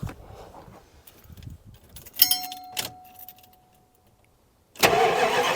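A car engine cranks with help from a Jump Surge JS 2000 jump pack: clicks and rattles, a brief cranking burst with a steady tone, a quiet pause, then the engine catches loudly near the end.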